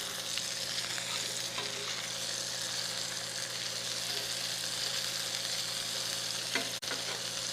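Hamburger patties fry on an electric or gas burner in a steady, close, even sizzle that runs without a break, with a brief clack near the end and no one talking.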